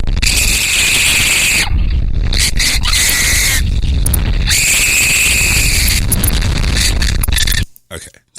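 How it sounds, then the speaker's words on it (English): Riders on an amusement ride scream loudly and continuously, a harsh, saturated wall of shrieks and roaring noise close to the recording that swells and dips before cutting off abruptly near the end. "And of course, they have to scream like girls."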